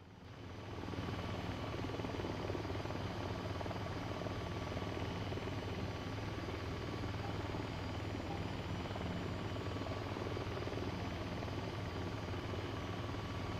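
Continuous helicopter rotor and engine drone in the video game VTOL VR, a steady loud whirring roar that holds at the same level throughout with no talking.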